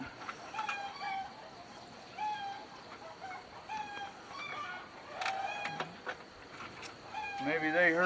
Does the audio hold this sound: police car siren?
no